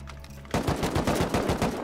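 Automatic gunfire in the online survival game Rust, with one long burst of rapid, evenly spaced shots starting after a short lead-in. The shots are loud and close, and no one speaks over them.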